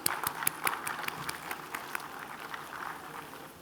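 A conference audience at a stock market event in Ahmedabad gives a round of applause during a token-of-appreciation presentation, moderately distant clapping with a few sharper claps early that thins and fades toward the end.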